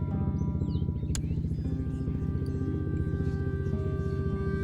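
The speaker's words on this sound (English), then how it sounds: "that freaking motorbike's back again." A motorbike engine drones outside at a distance, a continuous low, muffled rumble that holds steady with slight shifts in pitch and one sharp click partway through.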